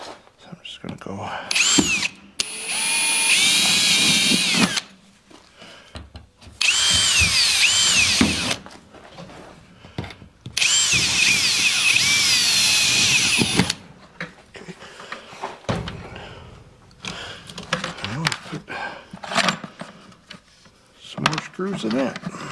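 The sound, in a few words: drill pre-drilling holes in camper trailer tin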